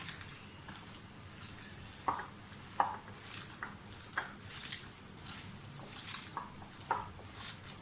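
Garlic-ginger paste and green chili paste being mixed by hand into a chicken kebab mixture, giving soft, quiet squishing and stirring sounds with a few sharper clicks and knocks against a bowl spaced through the clip, no talking.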